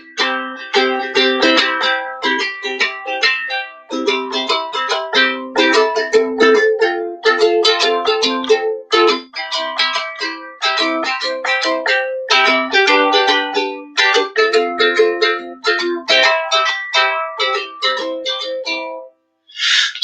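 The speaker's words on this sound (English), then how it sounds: "So 12-bar blues would sound something like this." A 12-bar blues chord progression in C, played on a keyboard, with steady rhythmic chords and a bass line running continuously for about twenty seconds, loud and close, no voices.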